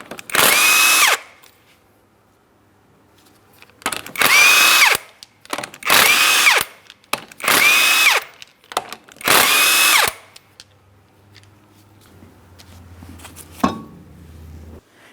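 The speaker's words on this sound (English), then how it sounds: "you're going to remove all 5 of your 19mm lug nuts so we can get the wheel off of here" Impact gun removing 19mm lug nuts from the front wheel of a 2003-2007 Cadillac CTS: five loud, close bursts of whirring rattle, each about a second long, separated by pauses, with a few faint clinks afterward.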